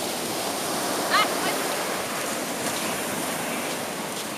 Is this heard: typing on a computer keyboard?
no